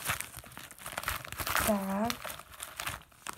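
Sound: crinkling packaging while opening a parcel

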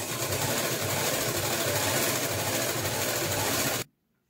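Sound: sewing machine stitching a party frock

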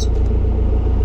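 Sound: car engine starting and running

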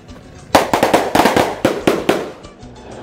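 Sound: fireworks being set off at São Sebastião festival

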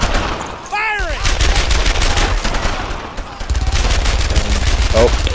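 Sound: gunfire in Brothers In Arms: Earned In Blood video game

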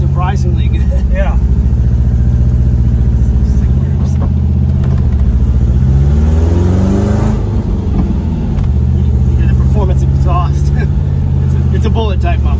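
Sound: 1974 Porsche 914 1.8 engine revving with bullet muffler

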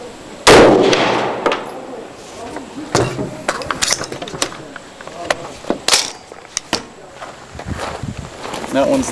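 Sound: Nosler Varmageddon AR rifle firing .223 Remington at water jugs

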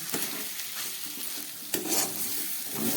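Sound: stirring banana stem curry in a pan

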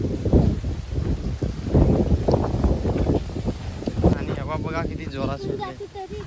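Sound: strong wind blowing outdoors

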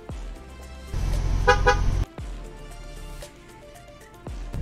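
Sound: truck horn double honk

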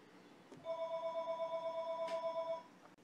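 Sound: telephone ringing

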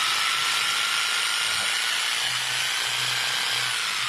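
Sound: Ryobi Kyocera J6500V jigsaw running, switch pressed

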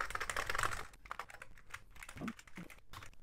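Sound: typing on an Amiga 1200 keyboard during testing

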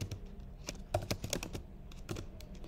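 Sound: typing code on a computer keyboard

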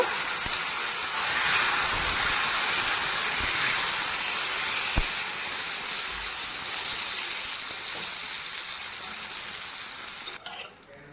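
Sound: eggplant pieces frying in a wok

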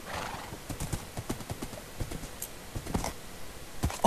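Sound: horse hooves and neighing in a video game

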